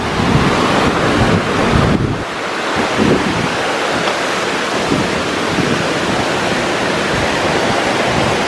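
Mountain torrent rushing steadily beside a trail toward a lake near Flaine in the Haute-Savoie Alps, a loud continuous roar with wind buffeting the microphone, no talking.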